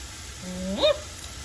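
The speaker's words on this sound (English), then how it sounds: "to this side of the skillet, we're going to add that delicious golden bacon fat" Bacon fat sizzling in a skillet while cooking cauliflower rice: a steady, soft hiss throughout, crossed midway by a brief rising squeal-like tone.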